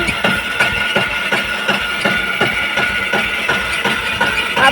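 A tractor engine runs steadily during groundnut harvesting, giving a loud, continuous chugging with evenly spaced rhythmic knocks throughout and no voices.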